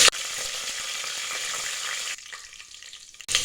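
Cumin seeds and a couple of leaves sizzle in hot oil for onion rice bath, a loud steady frying hiss that drops sharply partway through, then flares up again briefly at the end.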